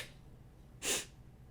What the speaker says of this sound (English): Why did I just sneeze glitter?